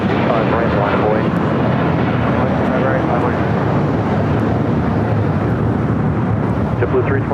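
A JetBlue Airbus A321 takes off from LAX bound for JFK, a loud, continuous broadband engine roar that holds steady throughout, with no pauses or spoken words.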